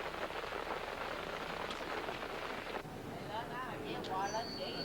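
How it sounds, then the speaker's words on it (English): Rain falling at night in the jungle during the Vietnam War, a steady soft patter and hiss throughout, with faint tonal sounds entering partway. "There's only the sound of the rain, the swash of ponchos"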